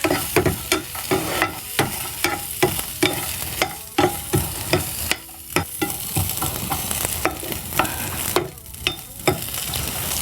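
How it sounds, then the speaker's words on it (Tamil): Grated coconut dry-roasts in a hot pan without oil, with a soft crackling hiss under rapid, repeated scraping strokes of a spoon stirring close by, and no voices. "தேங்காய் போட்டு தேவையான அளவுக்கு தேங்காய் கொஞ்சம் லேசாக வதக்கினா போதும்"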